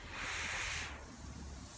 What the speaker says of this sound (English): Listen to the hiss.